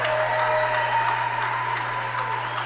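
An indoor crowd claps for a senior player of the 2020 Carthage women's basketball team, a steady patter of applause under a low constant hum, fairly close and sustained throughout.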